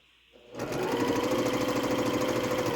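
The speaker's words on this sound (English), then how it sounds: "And then I'll sew that middle row together too before we press these." A sewing machine starts up and stitches quilt block rows together at a fast, steady, even rhythm, close and clear, with no talking.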